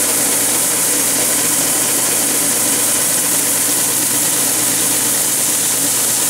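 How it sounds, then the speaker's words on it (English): A belt sander trues the surface of a bone guitar nut, a loud, continuous hissing and grinding whir that holds steady throughout with no talk. "I'm just trying to use my belt sander to get a nice true surface"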